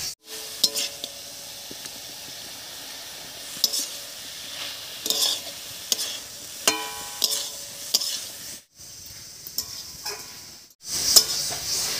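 Pumpkin greens being stirred with fried eggplant in a pan, a utensil scraping and clinking in repeated strokes over a steady soft sizzle, no voices.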